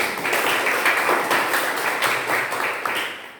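Classmates in a school lesson clap together for a few seconds, a dense, even patter of many hands in a room.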